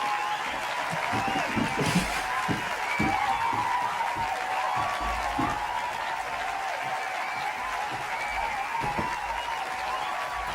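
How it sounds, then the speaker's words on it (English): A round of applause from an audience at a show welcoming a guest, with steady clapping and light crowd noise continuing throughout, fairly close and sustained. "Everyone, round of applause."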